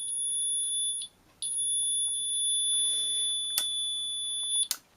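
A handheld stud detector sounds a sustained, shrill electronic beep up close. It drops out briefly, resumes as a continuous tone and ends with a couple of short clicks.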